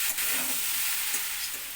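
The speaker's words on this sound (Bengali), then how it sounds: "এটাকে ভালো করে নেড়ে চেড়ে দিচ্ছি।" Paneer pieces are stirred into a pan of mixed vegetables: a steady close sizzle with a few soft scraping strokes, no talk.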